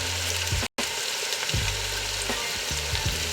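Spices fry in a pan for aloo matar anday, a dense sizzling crackle that runs continuously with intermittent low scraping stirs, close and alone apart from one brief dropout.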